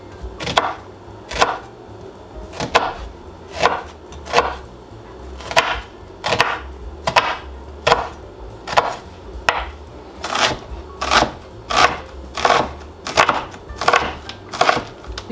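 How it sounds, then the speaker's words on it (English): A knife chops an onion on a cutting board in a steady run of sharp, close knocks, roughly one or two per second, speeding up toward the end over a low background hum. "Now we're just gonna cut up our onion."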